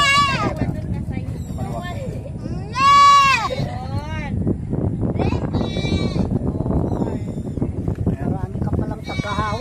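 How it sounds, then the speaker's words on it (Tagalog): Several goats bleat in a small tethered group, loud wavering cries repeating across the scene, one especially strong call standing out, over constant background murmur and chatter. "Ito yung pangalawang kambing na tinali."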